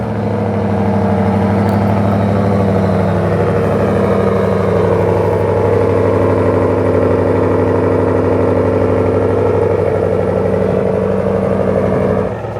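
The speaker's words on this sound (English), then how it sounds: "That's the regular idle. It's out of cold start, just a nice Hemi V8 rumble." A Hemi V8 engine in a RAM 1500 truck idles steadily after a cold start with a loud, throaty rumble, close by and constant throughout, no voices.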